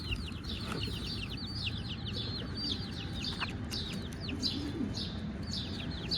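Many small black chicks cheep in rapid, overlapping high chirps over a low rumbling background, continuous and close by.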